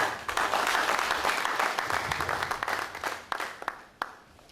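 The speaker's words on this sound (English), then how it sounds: "Another round of applause for" Audience applause fills a workshop hall on inmate behavioural and cognitive modification, a dense wash of many clapping hands that fades gradually toward the end, with a few sharper individual claps standing out.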